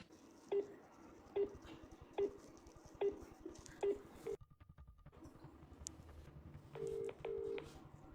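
An incoming call on a phone rings as a repeating electronic tone, five evenly spaced beeps followed by a pause and two longer doubled tones, heard close in a quiet room with no talk.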